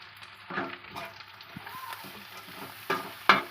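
Seasoning for mango chitranna fries quietly in a pan, a soft steady sizzle broken by a few sharp clinks of stirring, with no voices.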